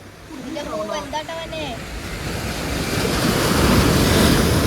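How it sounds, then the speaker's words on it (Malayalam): Sea waves rolling in and breaking on a beach, a steady broadband wash that builds louder toward the end, with wind buffeting the microphone and a few voices talking briefly near the start. "നല്ലൊരു തിര വരുന്നുണ്ട്."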